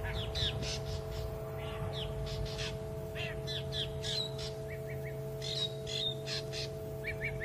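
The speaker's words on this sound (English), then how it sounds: "can hear those drongos. They really don't like the owl being here." Harsh, repeated calls of drongos harassing a Verreaux's eagle owl ring out in quick bursts over a steady low hum, several birds calling back and forth close by.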